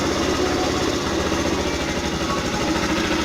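V-Clic 50 moped engine running after a kick start, a steady, rapid buzzing idle with a rattling mechanical vibration, close and continuous throughout.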